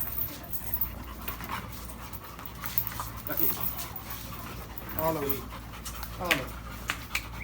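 A Labrador dog pants rapidly and steadily close by, with occasional whimpers, while people talk over it throughout.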